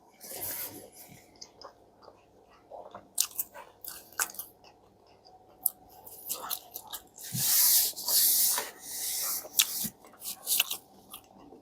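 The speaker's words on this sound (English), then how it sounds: "Let me try some of this crust now that it's all effed up anyway." Stuffed-crust Domino's pizza crust being bitten and chewed close up, soft crunchy bites and wet mastication in irregular bursts, with quiet breathing between.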